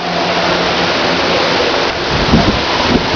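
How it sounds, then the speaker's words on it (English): Heavy rain pours steadily during a big storm, a dense, loud wash of water close by that continues without a break, with a few faint thumps near the end. "The rain. Pouring."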